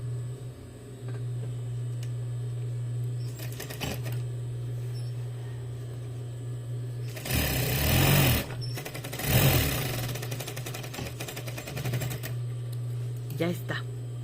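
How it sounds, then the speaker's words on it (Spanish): Sewing machine stitching a reinforced pocket onto women's trousers, with two louder bursts of stitching over a steady low motor hum and a few quieter runs before and after, while someone talks over it. "Ahora vamos a pasarle costura aquí a lo que es nuestro bolsillo"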